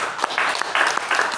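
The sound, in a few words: congregation clapping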